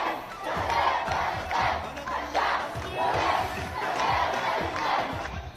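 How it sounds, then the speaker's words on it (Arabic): Moroccan demonstrators chant slogans for Palestine's liberation, a large crowd roaring in loud, rhythmic repeated bursts that rise and fall about once a second. "وردد المتظاهرون هتافات تطالب بتحرير فلسطين من الاحتلال الإسرائيلي"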